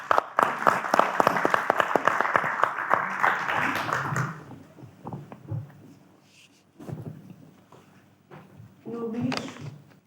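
An audience applauds at a literary reading event in Porto, a dense burst of clapping for about four seconds that then dies out, followed by quiet room noise and a voice starting to speak.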